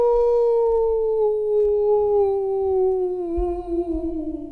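Wolf howl used as a stream alert: a single long, loud, pure tone held for several seconds, gliding slowly downward and wavering at the close, with low background rumbles underneath.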